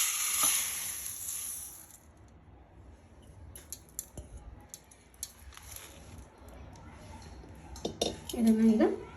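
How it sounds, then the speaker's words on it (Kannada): Soaked dosa rice grains are tipped from one pot into another vessel, giving scattered clinks and metallic scrapes of kitchen utensils, with a louder clatter of the vessels near the end. "ಇದನ್ನು ಬೇರೆ ಪಾತ್ರೆಗೆ ಬಟ್ಲಿಗೆ ಬಗ್ಗಿಸ್ಕೊಳ್ಳೋಣ"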